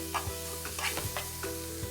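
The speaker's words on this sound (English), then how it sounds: "I'm going to add my onions to the hot pan that I cooked my steak in. And just saute these around." Onions sautéing in a hot pan left over from cooking steak, a steady close sizzle with spatula scrapes and stirring clatter every half second or so, no voices.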